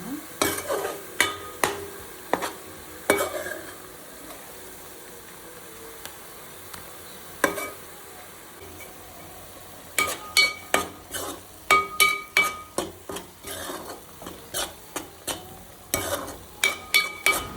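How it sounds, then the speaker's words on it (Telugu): Fish curry frying in a pan with a soft background sizzle, punctuated by repeated sharp scrapes and clinks of a spoon stirring against the metal, coming in irregular bursts close by. "ఇది బాగా ఫ్రై అవ్వనివ్వాలి. సో ఇది బాగా ఫ్రై చేసుకున్నాను."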